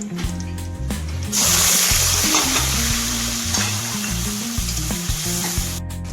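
Tomato, green chili, onion and ginger pastes hit a hot pan together and fry with a loud, steady sizzle, with a few clinks and scrapes under it.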